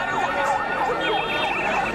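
Ambulance and police sirens wail in steady repeating sweeps at the site of a suicide blast in Islamabad, Pakistan, loud and continuous throughout.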